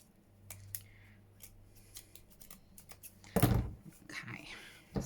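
Scissors snip paper for an envelope-style junk journal, a few quiet cuts followed by one louder, close rustling snip near the end, with faint speech murmuring in the background.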